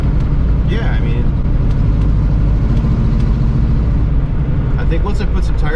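A 1971 Pontiac Formula's engine runs steadily with a low, continuous rumble throughout, while people talk over it.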